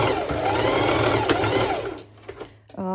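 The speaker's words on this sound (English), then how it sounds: "your sewing machine will push it" A home sewing machine stitches through layered fabric with mesh for a twisted top, a fast steady whirring run for about two seconds that stops, followed by faint handling and a brief voice.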